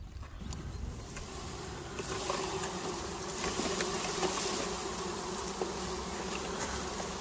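A free swarm of honeybees being caught by a beekeeper, a dense, continuous buzzing hum of many bees close by, steady throughout.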